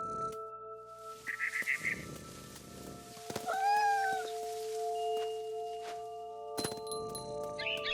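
A cat meows in What Remains of Edith Finch, a short rising cry near the middle, set against a steady in-game ambient hum with a few soft clinks and rustles before and after.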